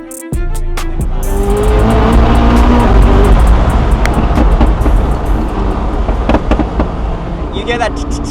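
A loud, high-revving Koenigsegg hypercar engine roars continuously, punctuated by sharp crackles and pops from exhaust flames, with a brief voice near the end.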